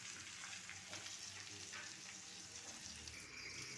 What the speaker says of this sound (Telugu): దొండకాయ వేగటం మొదలెట్టింది శబ్దం వినిపిస్తుందిగా